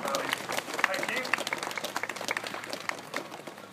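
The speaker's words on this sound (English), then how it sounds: "Give him another round of applause." Audience applause at a sea lion show, a lively burst of many hands clapping for about four seconds, fairly close and gradually thinning out toward the end.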